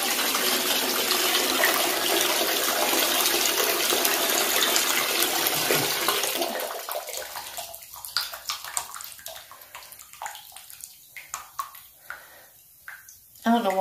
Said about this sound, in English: Okay, so the bath water's running.